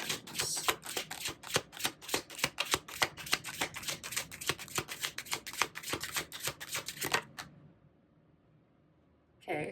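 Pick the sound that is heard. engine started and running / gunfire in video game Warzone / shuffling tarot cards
shuffling tarot cards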